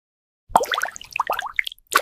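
Soft wet dabs and small plops of water as a brush touches down, a quick cluster of moist taps after silence, then one more.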